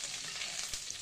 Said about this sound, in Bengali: দিয়ে কারি পাতাটা ভাজা পর্যন্ত